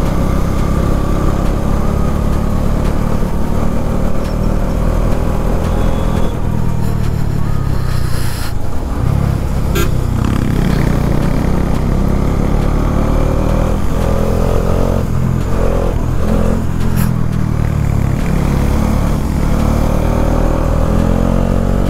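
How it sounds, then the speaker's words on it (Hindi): A Bajaj Dominar 400 ridden hard on mountain roads in Uttarakhand, its engine droning loudly and continuously under heavy wind rush as the revs climb and ease through the corners. "फुल परफॉर्मेंस देती हुई डोमिनार अपनी"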